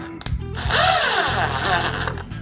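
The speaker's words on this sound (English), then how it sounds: "drill gun to tighten it up." A power drill driving a screw to install guitar tuners whirs in a steady, rising burst lasting a couple of seconds, close up, with faint voices and handling noise around it.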